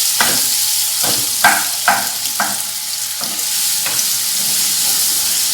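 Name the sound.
ripe plantain and cashews sautéing in a pan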